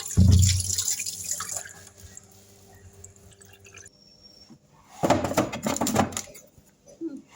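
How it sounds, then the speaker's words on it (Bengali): A bottle gourd washed under running tap water, a loud splashing burst at the start fading to drips, then a second strong rush of water about five seconds in. "তো লাউটা ধুয়ে পরিষ্কার করে নিলাম।"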